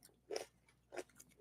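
Two crisp, close crunching bites about half a second apart, followed by softer chewing noises, in an otherwise quiet space, eating fermented ginger, radishes, carrots and cabbage.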